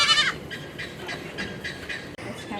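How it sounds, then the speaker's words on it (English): Goats, including young kids, bleat in an animal pen at Wonder World Cave & Adventure Park in San Marcos, Texas, with a short sharp cry and then a series of fainter, repeated calls at moderate distance. "Some more goaty goats."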